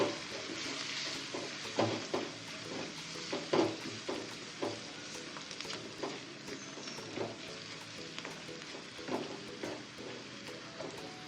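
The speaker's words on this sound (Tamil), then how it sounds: "ரெண்டு நிமிஷத்துக்கு வெங்காய பூண்டு வதங்கட்டும்" Onion and garlic sautéing in a pan with a spoon: a steady close sizzle broken by repeated scraping and stirring strokes, with no voices.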